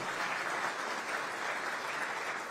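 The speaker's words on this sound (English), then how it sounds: "Round of applause for Insight Global and Dell Technologies" A crowd at a civic innovation and technology event in Aurora applauds steadily throughout, a continuous wash of clapping at moderate distance with no break.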